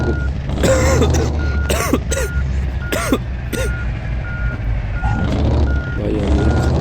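A person coughs and clears their throat several times over the steady, repeating reversing beeps of a truck in a trucking simulator game.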